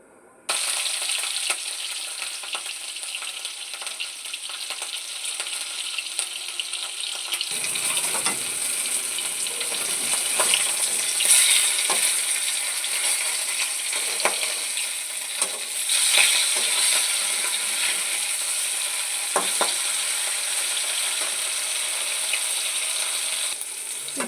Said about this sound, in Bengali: এবার এর মধ্যে আমি মাছগুলো দিয়ে ভেজে নেবো